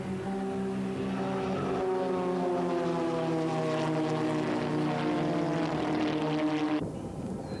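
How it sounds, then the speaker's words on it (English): Formula Ford race cars in the second heat at Welkom scream through the final lap, several engines droning together in steady harmonic layers, loud and continuous before cutting away near the end. "Gleed gets the toe that he wanted, takes the lead going through the final quarter lap of the second heat at Welkom."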